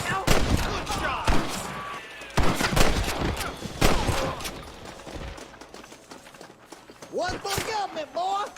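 Gunfire rings out in Red Dead Redemption on Xbox 360, with loud, sharp volleys of rifle and pistol shots cracking in bursts and dying away for a few seconds before more shots, while voices shout over the shooting.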